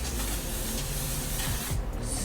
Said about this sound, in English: I'm going to hold it with the fixing spray